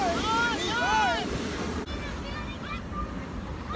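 Beach waves and surf rumble continuously under wind buffeting on the microphone, while people talk and call out over the steady wash of water.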